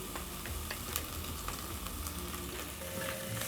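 Onions frying with crushed garlic and ginger paste for beef pilau, a soft, steady sizzle with light stirring clicks, no voices.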